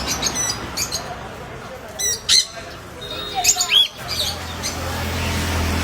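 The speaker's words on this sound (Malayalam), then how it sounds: "African love birds." African lovebirds in an aviary give repeated shrill chirps and squawks in short, close bursts over a steady low background hum.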